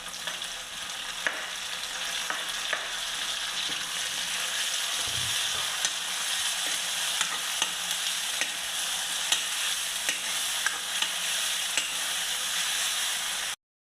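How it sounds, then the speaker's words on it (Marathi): Tomatoes and spring onion stir-frying in a pan for a mothchi bhaji, a steady close sizzle with occasional stirring clicks and scrapes throughout, no talking. "आता टाकूया टमाटर आणि कांद्याची पात"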